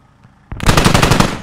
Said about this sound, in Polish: dowódca każe strzelać, to strzelam